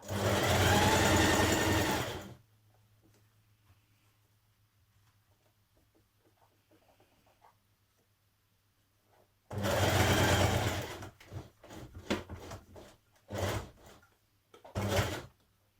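A sewing machine stitches a skirt yoke seam in a long, loud whirring run, falls silent with only a low hum, then resumes with one long run and several short bursts.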